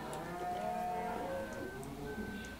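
Cattle moo on a farm in Farming Simulator 17. Drawn-out lowing calls overlap at moderate distance against a steady background hum, with no speech.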